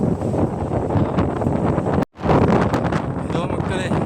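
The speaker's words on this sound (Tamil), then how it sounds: "காற்று வேறு பயங்கரமான அடிக்குதுங்க பாருங்கள்." Strong wind gusts blast across a mountain climb on Kondarangi hill, buffeting the microphone with loud continuous roaring and a brief sudden dropout midway.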